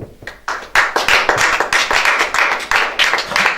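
A church congregation clapping in rhythm, loud and close, a steady series of sharp, evenly spaced hand claps with no talking over them.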